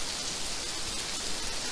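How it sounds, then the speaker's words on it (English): A heavy rain downpour, a steady dense hiss of close drops that stays even and loud throughout with no voices. "here I am in the middle of a downpour"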